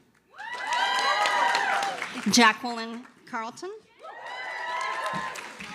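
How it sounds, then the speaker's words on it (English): A crowd at a physician assistant program long white coat celebration cheers and applauds graduates in a sustained wash of clapping and shouts, with an announcer reading a name over it partway through. "So go ahead and cheer your friends and family on."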